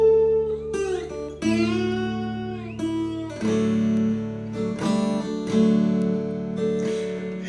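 Slide guitar playing a tune in a bluesy style, with sustained notes gliding between pitches and strong plucked attacks, clear and close, with no talk.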